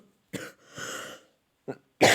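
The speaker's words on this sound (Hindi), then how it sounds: "मुझे ना खांसी हो गया" Someone coughs several times in short, close bursts, including a longer raspy throat-clearing cough, separated by brief silences.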